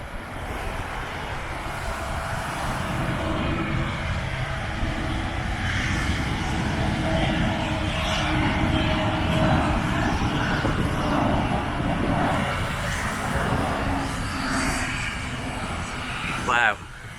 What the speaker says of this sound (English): there's an aircraft coming in now